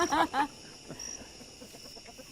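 A couple of loud clucks from a nearby chicken open the clip, followed by softer scattered clucking and faint chirps in the background.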